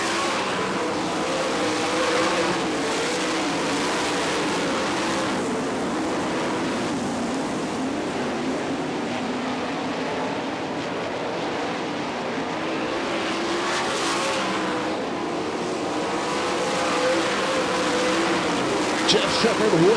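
Sprint cars of the All Star Circuit of Champions roar through turns 3 and 4 at a Gibsonton, Florida dirt track. A steady, dense engine drone fills the scene while an announcer talks over it.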